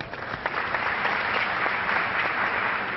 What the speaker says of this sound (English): round of applause for Meporter.